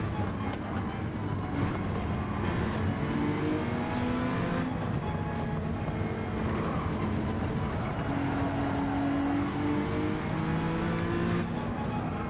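A Honda NSX in a racing video game accelerating hard at full throttle, a loud sustained engine drone whose pitch climbs through the gears, with rising and falling tones and steady road noise and no pauses.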